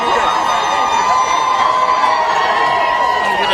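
A large outdoor crowd outside a courthouse screams and cheers loudly and continuously, a dense wall of overlapping shouts and whoops close by.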